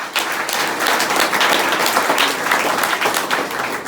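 An audience applauds at a Saint-Pierre feast celebration, with dense, steady clapping that continues loud and unbroken from start to finish.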